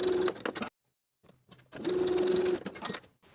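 A sewing machine runs in two short bursts of rapid stitching, basting the short tie edges onto a summer dress, with a brief pause between runs and some quieter handling clicks, close and alone.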